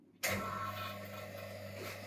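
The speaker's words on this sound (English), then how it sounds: "I'm running the vacuum pump now," A vacuum pump starts abruptly and runs steadily with a constant hum and hiss, hooked to a leaking refrigerant hose on a Tesla Model S Dual Motor.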